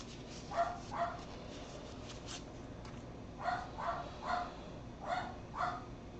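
An indoor dog barks repeatedly at a home dye-working session, with a pair of soft, slightly distant barks early on and a series of evenly spaced barks later, over a low background hum.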